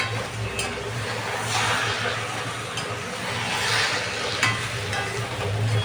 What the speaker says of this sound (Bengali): এটাকে একসাথে ভালো করে ভেজে নিই।